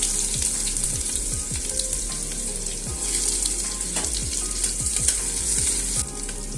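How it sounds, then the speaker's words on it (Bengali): Chopped onions sizzling in hot oil with whole cumin seeds, a loud, continuous close-up fry with occasional spatula scrapes and soft bubbling throughout. "এবারে আমি দিয়ে দেব এতে কুচিয়ে রাখা পেঁয়াজগুলো।"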